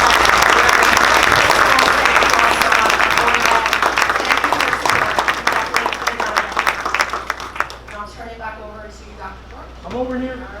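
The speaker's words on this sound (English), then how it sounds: "we just want to once again give a big round of applause to our teacher leaders, our ed techs" Audience applause at a school board of education meeting honoring teacher leaders and ed techs, a dense sustained clapping that holds loud for about seven seconds, then thins out and fades as voices begin talking.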